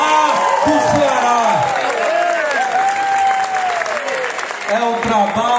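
A political rally crowd in Ceará breaks into dense, sustained applause with some cheering, loud and close, while a voice talks over the clapping through much of it.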